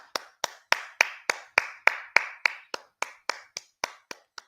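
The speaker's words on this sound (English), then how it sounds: "Hand clap." Single hands clapping at a steady, even pace, about sixteen sharp close claps in a row that slow slightly and fade a little toward the end, with no talking over them.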